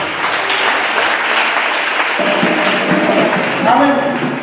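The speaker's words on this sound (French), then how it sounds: "Acclamons pour le Seigneur Jésus." A church congregation applauds together during a worship service, a dense, steady wash of clapping that carries on throughout with voices mixed in.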